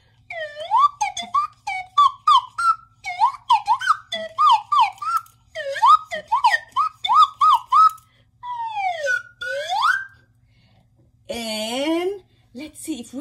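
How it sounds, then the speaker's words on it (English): Close slide whistle playing a quick series of swooping up-and-down glides, then a long slow slide and a final sweeping rise, alone. "This is my sliding whistle."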